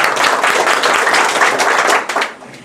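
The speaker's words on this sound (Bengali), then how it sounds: "আলোকিত ফাউন্ডেশনের জন্য একটা তালি হয়ে যাক।" Crowd applause at an Eid reunion gathering held by the Alokito Shaktala Foundation, a dense, steady burst of many hands clapping that holds for about two seconds before tapering off.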